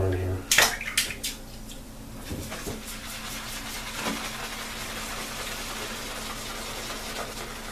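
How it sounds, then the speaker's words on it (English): Tap water pours into a Phoenix Bakelite shaving bowl, a steady close splashing rush after a few sharp knocks at the start, with a faint voice beneath. "Let me get some more water in here."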